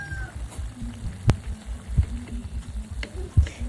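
Chayote and potato pieces in oyster sauce get stirred in a pan, a low simmering bubble broken by a few distinct scraping knocks of the spoon against the pan.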